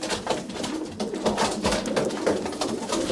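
Racing pigeon from a Pitbull Kittel line, cooing in a busy loft; the cooing blends into a dense, steady mix of many birds' calls and wing noise, moderately loud throughout.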